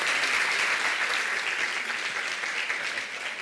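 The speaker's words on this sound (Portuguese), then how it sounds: "Agora podemos dar palmas, não podemos?" Sustained applause from an audience, dense and steady, tapering off slightly at the end.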